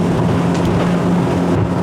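Jeanneau Merry Fisher 1095 Fly flybridge boat engines run at full throttle on a choppy, windy day, giving a loud, constant roar mixed with wind and water rush, close and unbroken, with no talk.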